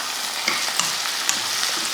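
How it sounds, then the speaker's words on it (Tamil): Chopped onions, tomatoes and a small piece of tamarind sauté in a pan, giving a steady, close sizzle broken by a few sharp scrapes of a stirring spoon. "தக்காளி போட்டதுக்கப்புறம் ஒரு சின்ன துண்டு புளி அதையும் போட்டு இப்போ அதை நல்லா வதக்கிடுவோம்."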